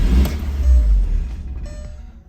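Audi TT engine starting up after a radiator install, a brief low rumbling crank and idle that stays steady and close, fading slightly toward the end with no talking.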